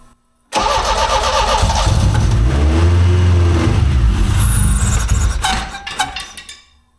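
A Chevrolet Beretta Z26 with a Quad 4 engine and slightly smaller injectors cranks and catches, roaring loudly up close, revving and wavering before settling and fading to a stop.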